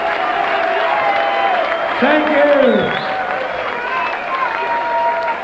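Crowd applause at the 1997 BDO World Darts Championship final, a steady broad wash of clapping from a large audience, with someone speaking briefly over it partway through.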